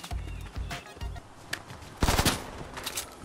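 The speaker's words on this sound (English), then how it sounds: "Oh, oh, who's shooting at me?" Rapid bursts of gunfire aimed at the player in Fortnite, several short rattling volleys of automatic shots at moderate distance, with a louder, denser burst in the middle and faint scattered shots after.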